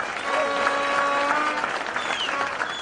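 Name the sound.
audience applauding delegates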